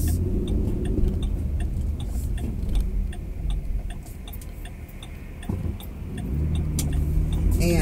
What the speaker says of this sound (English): there was a car that pulled up before on alongside of me